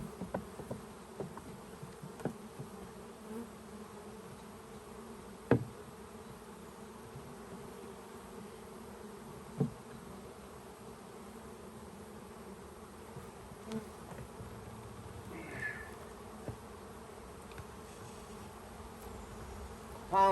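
Continuous buzzing of many honeybees around a nuc hive box, fairly faint and steady, with occasional sharp knocks and clicks nearby.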